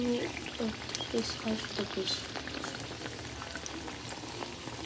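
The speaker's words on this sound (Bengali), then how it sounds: "একটু লাল লাল করেই ভাজবো আর তেলটা বেশি গরম হয়ে গেছে" Pitha frying in overheated oil makes a continuous bubbling sizzle with small pops, steady and close, under a voice speaking throughout.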